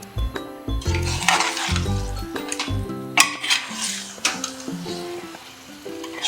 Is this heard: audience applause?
no